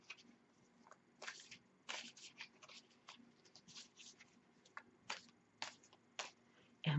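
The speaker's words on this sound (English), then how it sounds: "As I shuffle the deck" A tarot card deck is shuffled by hand in soft, irregular bursts of riffling and crisp card slaps, close and fairly quiet with short pauses between.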